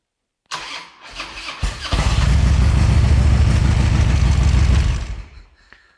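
A Harley-Davidson motorcycle with Stage 1 upgrades cranks over briefly, catches, and roars into a loud, steady close-up idle, then shuts off abruptly near the end; no speech.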